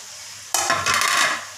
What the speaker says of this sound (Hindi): इसी ऑयल में अब ये बचा हुआ मसाला मैं डाल दूँगी और मसाला फ्राई हो चुका है